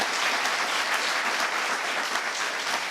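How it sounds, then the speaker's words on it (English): A television studio audience applauds in a continuous, even wash of many hands clapping close by, with no talk over it. "So we all applaud you for that."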